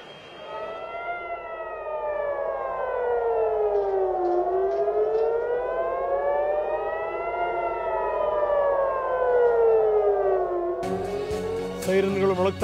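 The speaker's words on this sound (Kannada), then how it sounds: "ಟೆಲ್ ಅವೀವ್ನಲ್ಲಿ ನಿರಂತರವಾಗಿ ಸೈರನ್ ಮೊಳಗ್ತಾ ಇದೆ" Civil defense air raid sirens wail across Tel Aviv in a continuous rising and falling tone, loud and sustained, with a sharper burst of noise near the end.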